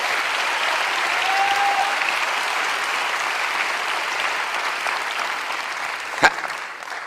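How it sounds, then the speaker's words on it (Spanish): A church congregation at a mission service gives sustained, even applause that fills the whole stretch, with one sharp knock near the end. "Dale un aplauso al Rey."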